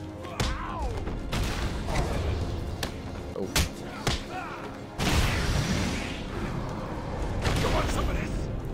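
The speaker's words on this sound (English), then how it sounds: "Sounds like a gunshot every time you hit an enemy." Punches landing on enemies in the video game Batman Arkham Asylum, each hit a sharp, loud, gunshot-like crack. Several irregularly spaced impacts ring out over busy game background noise.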